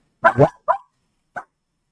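Brody, a dog in a podcast studio, gives a few short barks in quick succession near the microphone, then one more bark after a brief pause, with no talking.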